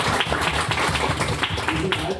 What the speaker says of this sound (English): Let's give another round of applause for Lupol.